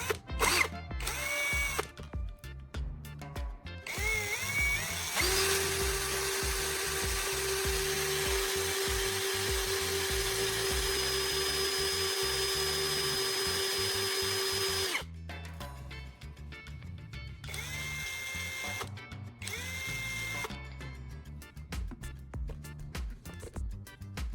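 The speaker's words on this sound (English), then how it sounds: "I'll insert the carbon rod into my drill and use a piece of sandpaper to meticulously sharpen its tip." A power drill whines steadily for a long stretch, its pitch rising and falling as it starts and stops, with a gritty grinding edge as it spins a carbon rod against sandpaper to sharpen its tip.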